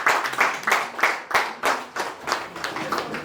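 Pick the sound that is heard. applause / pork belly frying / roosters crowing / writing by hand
applause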